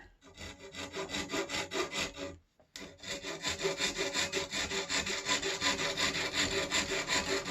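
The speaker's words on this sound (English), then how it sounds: "And this little Stanley saw, it's pretty sharp" A small Stanley hand saw rasps steadily back and forth through wood, with quick rhythmic strokes that pause briefly before continuing close by.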